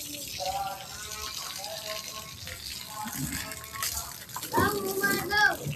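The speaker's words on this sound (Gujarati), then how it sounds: "હવે થોડી ગાડી પર પ્રેશર મારી દઈએ." A pressure washer blasts water over a dusty car in a continuous hissing spray, with voices, one sounding like a child, talking over it and growing louder near the end.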